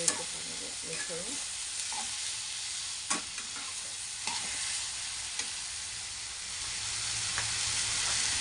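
Tomatoes frying in a pan while being stirred, a steady broad sizzle with scattered scraping clicks from the spoon throughout, no voices.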